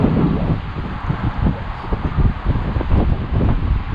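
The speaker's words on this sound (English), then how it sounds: "it's quite windy out here" Steady, loud wind buffets the microphone outdoors at Moses Lake with continuous low rumbling gusts and no speech.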